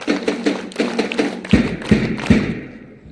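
Grade VII students at a school assembly clap in a unison rhythm, with quick runs of light claps followed by three louder, spaced claps, then a fading tail, near and clear with no talking.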